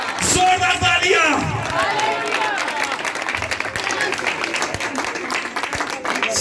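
Loud applause from a church congregation fills the space, dense clapping with crowd noise and a voice calling out over it, steady throughout.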